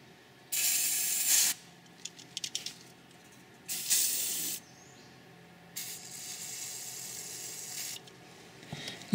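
WD-40 lubricant sprays from an aerosol can during a rear brake rotor and pad job on a Dodge Grand, three distinct hissing bursts with quiet clicks and handling sounds in between.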